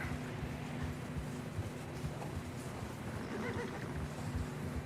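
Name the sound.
horse neighing in video game Red Dead Redemption 2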